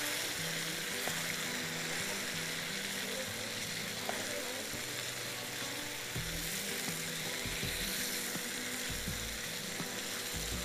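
Sliced tomatoes fry with minced meat and potatoes in a pan for qeema aalu, a dense, steady sizzle running throughout with faint clinks.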